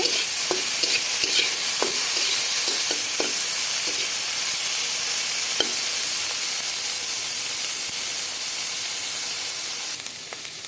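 Bitter gourd fry with turmeric, salt and green chilli being stirred in a pan: a steady, close sizzle and hiss runs throughout, broken by scattered spatula taps and scrapes, with no talking.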